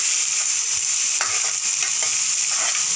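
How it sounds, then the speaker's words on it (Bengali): Potatoes, capsicum and carrots frying in a pan for chicken soup are stirred, a steady close sizzle with soft scraping strokes of the spoon and no voices. "এবার এটাকে ভালো করে নাড়ব।"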